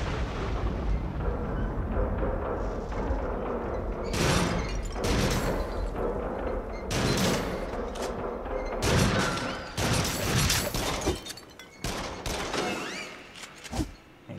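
Shotgun blasts in the video game Until Dawn: Rush of Blood sound as repeated booming reports over a dense, rumbling game soundtrack, with several clustered shots toward the end.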